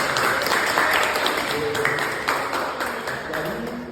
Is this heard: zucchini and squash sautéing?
no